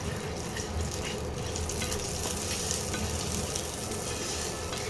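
Steady, dense sizzling of a water-mixed spice paste frying in hot oil after cumin seeds, continuous and fairly loud throughout with no talking.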